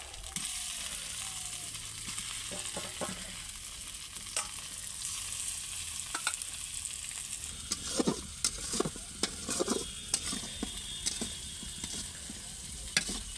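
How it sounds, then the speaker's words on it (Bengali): Chopped tomatoes hit a hot kadai after ginger in a village-style fish curry, giving a steady close sizzle with scattered stirring scrapes and clinks, growing busier toward the end, with no talking. "তারপরে টমেটো কুচিগুলোকে কড়াইয়ের মধ্যে দিয়ে দেবো।"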